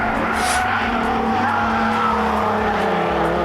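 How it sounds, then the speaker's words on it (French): Race car on a circuit with worn brake pads, metal grinding on metal, giving a continuous loud harsh scraping with tonal whine and tire squeal as the car slows, engine noise throughout. "Je crois que monsieur a un petit souci avec les plaquettes de frein, être sur métal contre métal."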